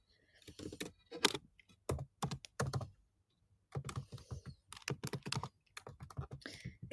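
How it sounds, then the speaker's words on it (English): Close-up computer keyboard typing comes in quick bursts of key clicks, separated by a few short pauses. "Can hear me typing on here."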